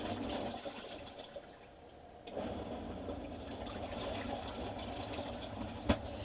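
A small washing machine runs inside the shower of a camper van, a steady watery churning and sloshing with a brief lull, then a louder restart and a sharp knock near the end; no talking.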